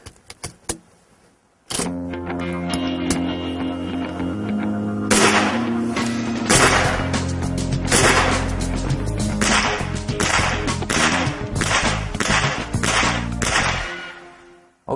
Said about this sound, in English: Go ahead and load that up.